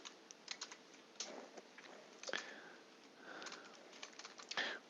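Dates being typed on a computer keyboard, scattered light key clicks in small irregular clusters, fairly close and quiet, alone without talk.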